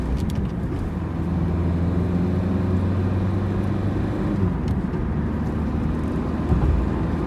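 A Ford Fiesta's engine drones steadily from inside the car while it drives after a downshift from fourth to third gear. The hum is loud and continuous and rises slightly in pitch, with no talk over it.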